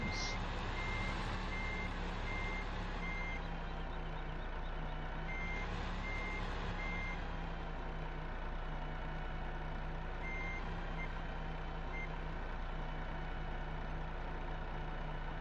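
Dump truck in Farming Simulator 15 reversing, its backup alarm beeping in steady evenly spaced pulses over a constant low engine drone, with no talking.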